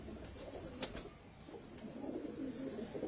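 A pigeon kept by a fancier flaps its wings, a couple of faint, quick flutters close by and then a quiet background, with no talk.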